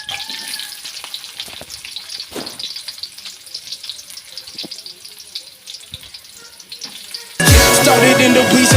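Ingredients for cauliflower masala fry in a pan with a steady crackling sizzle and occasional stirring knocks, then loud background music suddenly takes over.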